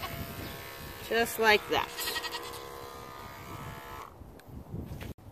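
Electric clippers buzz steadily through a dairy goat's coat in preparation for a goat show, a continuous close motor drone that changes pitch as it cuts, with a goat bleating and a person speaking over it.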